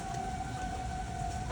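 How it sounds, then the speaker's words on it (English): Storm warning sirens wail as a steady, sustained tone, carried over distance and moderately faint, over a broad rushing background of wind and rain during an approaching storm. "Sirens are going off."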